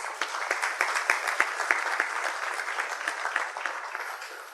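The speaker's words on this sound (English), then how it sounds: "Can you please give her a round of applause?" A crowd at an 80th birthday celebration gives a round of applause, sharp individual claps standing out above a steady bed of hand clapping, close and continuous throughout.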